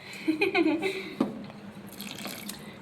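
Tap water runs into a metal milk vessel in a home kitchen, a short near splashing fill with bright ringing gurgles that fade into a softer trickle.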